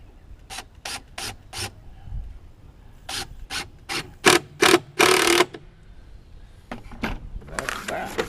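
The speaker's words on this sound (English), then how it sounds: "just a couple of screws in there to make sure that the lid doesn't blow off." Screws are driven into the wooden lid of a bee swarm trap, giving a run of rhythmic ratcheting scrapes with short gaps. A louder grinding burst sounds midway and more rough scraping comes at the end.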